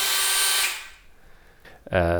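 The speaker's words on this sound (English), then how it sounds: "This is with the drill going." A power drill runs loud and steady for most of a second before cutting off, leaving near-quiet with a brief faint bump and then a voice starting to speak at the end.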